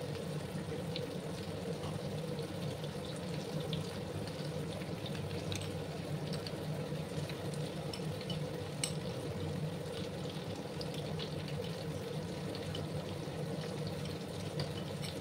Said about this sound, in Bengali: এগুলোকে এবার একটু জল দিয়ে আমি ধুয়ে নেবো।